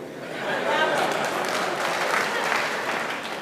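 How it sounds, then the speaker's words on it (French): An audience claps steadily throughout a hall, a dense sustained round of applause that swells in the first half second and then holds at an even level with no voices on top. "On voit que ce sont des applaudissements volontaires et pas des gens qui applaudissent avec un fusil dans le dos."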